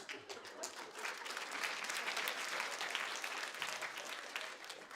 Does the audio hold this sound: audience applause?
yes